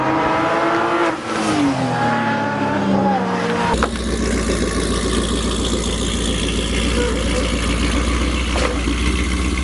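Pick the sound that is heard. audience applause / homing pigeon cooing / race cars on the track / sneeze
race cars on the track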